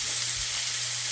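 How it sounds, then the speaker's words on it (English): Steak sizzles in a hot pan with a dense, continuous frying hiss, close and steady, with a faint low hum underneath and no clear voices. "just stir that around"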